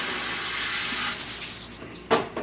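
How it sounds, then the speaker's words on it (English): Running water splashes steadily over a Fluval FX-6 canister filter impeller being rinsed clean of sand, a continuous close hiss that ends in a couple of brief louder splashes. "Give it another quick rinse."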